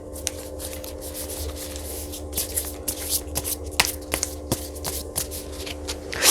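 Tarot cards shuffled and drawn at close range, soft continuous riffling and rubbing with several crisp card snaps and flicks scattered throughout, over a faint steady electrical hum.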